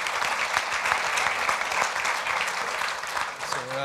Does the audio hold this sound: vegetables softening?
no